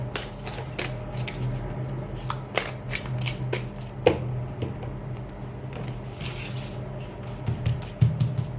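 Tarot cards are shuffled close by in repeated quick riffling bursts and soft slides, with occasional taps and card handling noises continuing steadily with no voices.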